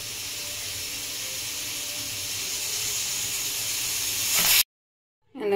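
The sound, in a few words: pressure cooker whistle, steam hissing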